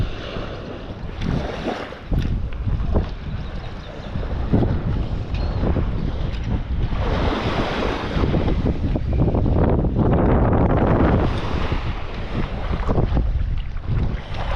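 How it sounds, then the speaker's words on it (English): Strong offshore wind buffets the microphone on a sunset beach, a continuous loud rushing and rumbling gusts with faint surf beneath, no voices heard. "This is nice with this offshore wind."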